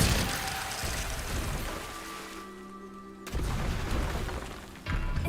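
Hogwarts Legacy's Glacius ice spell, cast in a dense roaring whoosh of magical noise that thins briefly in the middle and then surges back loud.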